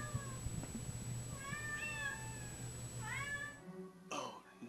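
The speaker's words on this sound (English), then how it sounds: "Here's another black cat." A black cat meows several times in quick succession, each call close and clear, with low background hum under it and a brief rustle near the end.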